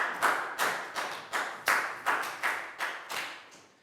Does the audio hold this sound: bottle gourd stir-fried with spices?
no